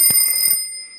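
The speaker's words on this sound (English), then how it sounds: "the alarm sound is too noisy, and it will really wake you up" A Casio TQ-362 quartz alarm clock gives a short, shrill electronic beeping ring, a few rapid high-pitched pulses up close that stop abruptly within half a second.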